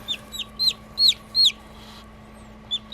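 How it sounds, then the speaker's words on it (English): Chickens and newly hatched chicks on a farm make a quick run of short, high, downward-sliding peeps and clucks, several in a row and then one more after a pause, close and clear over a quiet background hum. "Sidon, don't scare the chicks"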